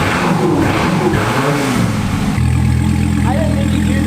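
A Dodge Viper engine starts up and settles into a loud, steady idle and rev, the low engine tone stepping up sharply partway through, with voices talking over it.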